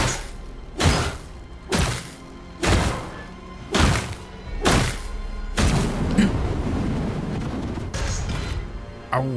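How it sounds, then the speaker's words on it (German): Several explosions in the video game DYSMANTLE go off loud and close, five heavy booming thuds about a second apart, then a rumbling blast that trails into noisy debris and rumble. "Explosion, ja, liebe ich."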